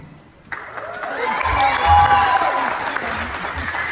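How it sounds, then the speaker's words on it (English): Wedding guests clapping during the bride's father's speech at the reception. The applause begins abruptly, swells into a full, close round of many hands, then tapers slightly, with some voices mixed in. "you don't have to applaud"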